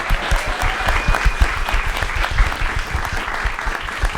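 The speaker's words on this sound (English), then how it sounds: "can we have a huge round of applause for our amazing panel of guests?" A live Chelsea football podcast audience breaks into loud, sustained applause for the panel of guests, dense close clapping that swells and then slowly thins, with a faint voice briefly audible beneath it.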